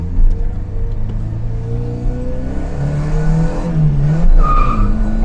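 A car engine fitted with an electronic carburetor runs at close range, its note wavering and briefly swelling as the idle is corrected, then settling again.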